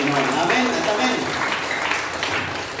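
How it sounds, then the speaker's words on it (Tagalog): A church congregation claps loudly and steadily, a dense wash of many hands filling the room throughout, with voices calling out mixed into the applause. "magsabi ng amen, at pumalakpak ng malakas sa ating Panginoon"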